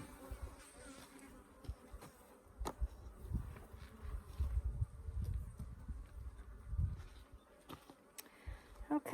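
Africanized hybrid honey bees buzzing around two opened hives during an inspection in southern Arizona, a low continuous hum that swells and fades as bees fly near, with clicks and handling knocks throughout and no clear talk.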